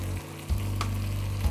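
Pork and spices fry in a pan with a soft, steady sizzle and a low background hum, heard briefly and without voices.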